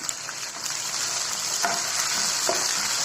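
Cumin seeds, along with chopped ingredients and curry leaves, frying in a pan for a pongal tempering: a steady bright sizzle with occasional scrapes of stirring, close and fairly loud, no talking.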